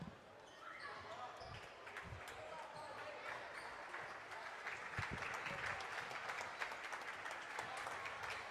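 Fans at a Vilonia versus Beebe boys high school basketball game applaud as player Sadler comes out, a sustained, swelling spread of crowd clapping, fairly faint, with dull thuds and voices talking beneath it.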